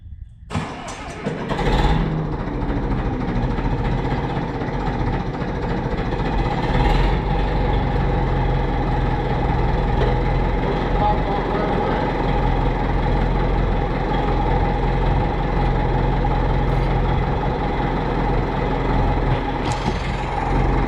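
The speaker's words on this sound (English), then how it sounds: "This used to be our tractor." An old farm tractor engine, a diesel warmed with a manifold heater, cranks over and then runs at a steady, loud idle close by for about twenty seconds, with no talk.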